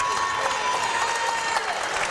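Steady applause and crowd noise fill an arena at a prep boys' basketball championship trophy presentation, a dense continuous clapping that holds level throughout.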